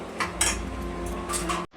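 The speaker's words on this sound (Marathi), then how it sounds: "आता आपलं मसाल्याचं मिक्सरचं भांडं आहे ते धुवून घ्यायचंय" A steel mixer grinder jar being rinsed and handled in a home kitchen while cooking spicy chicken gravy, with close metallic clinks and clattering of pots against running water.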